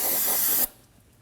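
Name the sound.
aerosol brake parts cleaner sprayed on a brake hose fitting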